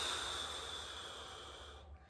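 One long, soft exhale of breath blown out slowly, a faint breathy hiss that fades away at the end in quiet surroundings.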